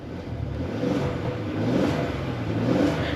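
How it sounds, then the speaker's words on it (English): The V6 engine of a 2022 Ford Expedition Limited Max Stealth Performance Edition 4WD revs up as the SUV accelerates, a steady mid-pitched drone rising in strength, heard from inside the cabin without talking. "let's go ahead and hear this V6."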